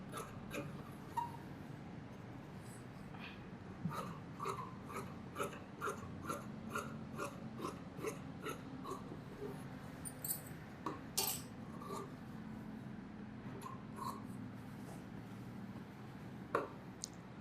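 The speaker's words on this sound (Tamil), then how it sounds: "மீதி இருக்கிற எல்லா பீஸும் வெட்டிடலாம்." Scissors snip steadily through chudithar fabric and lining pieces in a quiet room, a regular series of small crisp cuts and clicks close by with no talking.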